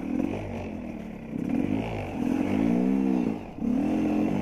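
Apollo 250cc motorcycle engine droning steadily while riding, with a continuous near hum that rises in pitch midway, dips briefly, then climbs again, mixed with road and wind noise.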